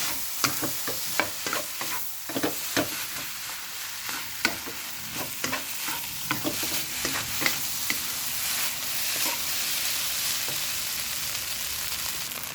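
Egg fried rice with Chinese sausage is stir-fried in a pan, giving a steady hiss and sizzle broken by frequent scraping, clinking strokes of a spatula, close and continuous with no voices.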